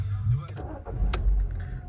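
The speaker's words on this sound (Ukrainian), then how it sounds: "Відразу давайте запустимо, послухаємо, як двигунчик працює." A 2009 Skoda Fabia Sportline with a 1.6 petrol MPI engine cranks and catches, then settles into a low steady idle heard from inside the car, with clicks and small cabin noises.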